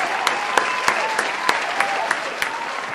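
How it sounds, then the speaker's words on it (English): A live audience applauds steadily, with a dense wash of clapping broken by a few sharper individual claps, a loud crowd with faint voices mixed in. "Clap it up, y'all."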